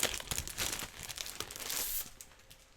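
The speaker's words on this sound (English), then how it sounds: "Sorry about the crinkling." Decorative patterned paper crinkles and crumples close up, a continuous rustle of crackling bursts lasting a few seconds, with no talking.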